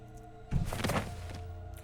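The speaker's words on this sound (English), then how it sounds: "With a thud, Nozomi fully collapsed and hit the floor" A body collapsing onto the floor in a video game, a single dull thud with a brief rumbling tail over a quiet background hum.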